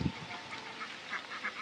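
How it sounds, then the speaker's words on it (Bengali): Flock of farm ducks on a duck farm in a Bangladeshi village, a brief low honk at the start followed by faint, scattered quacking that recurs at a moderate distance without any talk. "আপনারা দেখতে পাচ্ছেন ইতিমধ্যে বন্ধুরা কতগুলো হাঁস একসাথে কিন্তু কিভাবে সুন্দর মতো আসতেছে"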